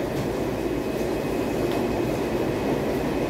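Eheim Universal water pump running, lifting water about 210 cm into a 10-litre bucket, a steady, even hum and rush with no breaks, fairly loud and close.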